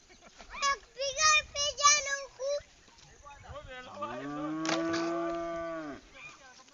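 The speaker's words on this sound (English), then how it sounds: "You can see the cow is already here. It came to graze here." A cow lows on a farm in Khabukoya village: one long, loud drawn-out moo with wavering pitch, following a stretch of children's voices chattering close by.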